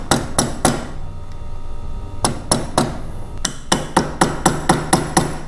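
Hammer tapping parts into an 04-06 Yamaha R1 motorcycle engine during clutch and water/oil pump work: sharp metallic strikes, first a quick burst of three, then a pause, then a steady evenly spaced series, loud and close with no talking.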